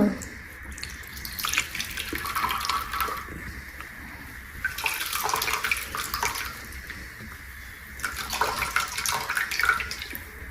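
Running water splashes steadily from a tap or pour, swelling and easing in a few bursts over about ten seconds, with no talking.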